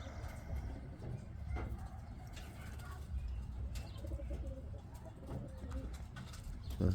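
Pet pigeons of fancy types such as grizzles, blue bars and laces coo softly in a loft, with low throaty calls and occasional wing flaps against a steady background hum, no talking.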